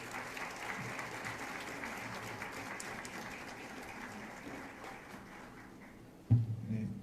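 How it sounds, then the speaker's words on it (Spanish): An audience at a medical lecture on cannabinoids for rheumatic disease welcomes the speaker with steady, fairly faint applause for several seconds, fading toward the end before a brief louder bump. "le damos un fuerte aplauso"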